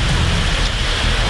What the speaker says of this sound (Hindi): मूसलाधार बारिश का यह मंजर है बिहार का।